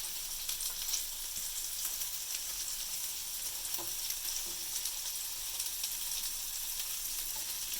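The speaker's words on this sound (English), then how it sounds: "can see that butter sizzling real nice now." Butter sizzles in a frying pan holding pierogies, a faint, steady crackling hiss with tiny pops, continuous and undisturbed.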